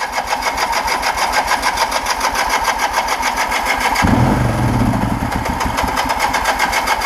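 A 1980 Kawasaki KZ LTD440 motorcycle engine with a carburetor fuel-feed problem cranks and catches partway through, then settles into a steady idle after a continuous whirring start-up.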